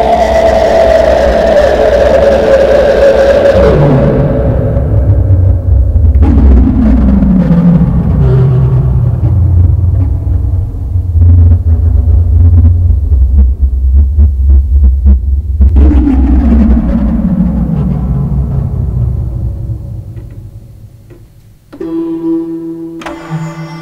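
Waldorf Blofeld synthesizer playing its Inversion patch, nudged a little with the mod wheel: loud, dense throbbing tones that swoop and sweep down in pitch, rumbling low drones, and a short bright buzzy chord right at the end.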